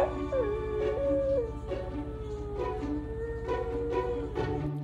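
Soft, wavering high whimpers and squeaky whines from a sleeping dog, rising and falling over a steady low hum.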